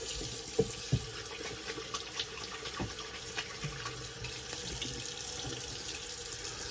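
Cold tap water runs steadily into a sink while a razor blade is rinsed, a continuous close splashing flow with a couple of brief knocks near the start.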